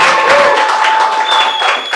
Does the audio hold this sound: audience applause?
yes